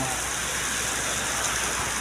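Heavy rain pours steadily in Riyadh, a dense, even hiss of downpour close by with no break and no talk.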